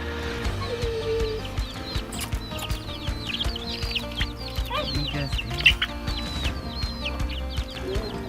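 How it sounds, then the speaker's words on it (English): Chickens and little chicks in a box cluck and chirp softly in a busy mix, with small peeps scattered throughout over a low background hum. "so chickens, the little chicks are in their box"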